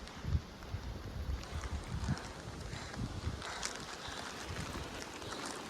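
Strong wind gusts roar across the hills of Munnar during rain, a dense, rushing noise buffeting the microphone in uneven surges throughout.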